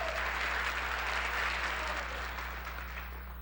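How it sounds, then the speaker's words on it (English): Sustained applause from a theatre audience at a 1997 music show, honouring the backstage crew, a dense, steady wash of clapping that fades slightly toward the end with no voices on top. "They deserve another big round of applause."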